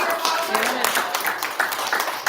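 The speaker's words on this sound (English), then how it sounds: "Round of applause." An audience at a spelling bee competition gives a contestant a round of applause, steady clapping heard close, with a voice speaking over the start.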